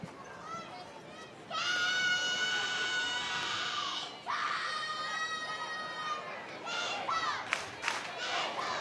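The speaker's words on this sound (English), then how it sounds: "Crowd wants a strikeout" A softball crowd at a California vs Florida State NCAA game cheers for a strikeout. Loud, sustained shouting and whistling swell in waves, with short breaks between them, and a commentator's voice is faintly audible underneath.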